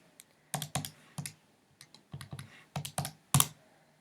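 Quick typing of a calculation on a keyboard: a dozen or so soft, close clicks and taps in uneven bursts with short pauses, all fairly quiet.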